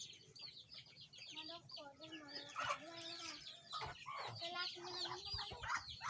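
Chickens clucking close by in a rapid, irregular stream of short calls, overlapping and fairly lively throughout, with voices of children mixed in.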